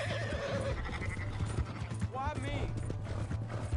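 Horse hooves clip-clop and a horse whinnies in a video game, the rhythmic galloping steady under a short spoken line, with a brief rising neigh partway through.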